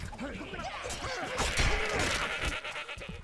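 Sheep and rams bleating amid combat in the fantasy game Overlord, several overlapping cries with thuds and smacks of a brawl, fairly close, with a brief voice mixed in.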